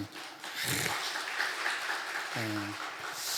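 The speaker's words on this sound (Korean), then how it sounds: "우리 찬양대에게 한번 박수 한번." A church congregation claps for the choir during a Sunday service, a moderate, even wash of many hands with a short voice breaking through near the end.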